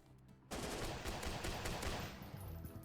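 Gunfire bursts from a malfunctioning gun in a first-person shooter with bots, a loud dense rattle of rapid shots starting abruptly and continuing for a couple of seconds before easing off.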